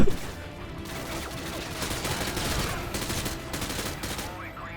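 Rapid gunfire crackles through a Call of Duty Modern Warfare 2 match, sustained bursts and scattered shots layered over noisy battle ambience, starting with a loud hit and carrying on steadily.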